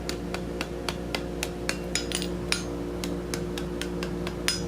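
Light, evenly spaced hammer taps ring out while forge welding the seam of a hand-forged fleur de lis scroll, about a dozen sharp metallic strikes over a steady low workshop hum.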